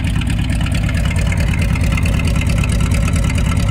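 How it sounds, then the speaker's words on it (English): A 1970 Chevrolet C10 pickup's big-block engine idles with a deep, steady, throbbing rumble, close by and continuous, with no talking. "listen to that truck idle"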